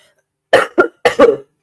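Four sharp coughs in two quick pairs during a church sermon, close and loud, with silence before and no talking.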